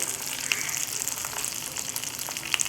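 Spices, peanuts, cashews and turmeric sautéing in a pan for mutton kola urundai, giving a steady close sizzle and crackle with faint stirring, no voices.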